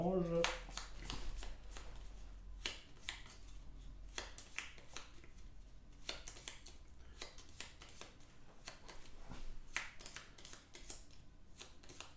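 Boss cards for the Gloomhaven board game are shuffled by hand in a series of crisp riffling bursts and soft taps, close up and fairly quiet, with occasional talk.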